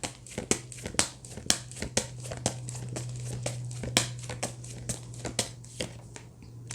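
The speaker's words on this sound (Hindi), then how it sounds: "चलो मैं एक और कार्ड निकाल लेते फिर मैं आपको बताती हूँ" Tarot cards are handled and one is drawn from the deck: sharp papery snaps and crinkles repeat irregularly up close over a low steady hum, with no talking.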